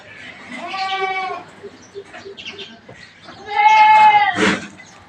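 A goat that is nursing her second litter bleats loudly and close by in two long wavering calls with a short pause between, over faint background noise.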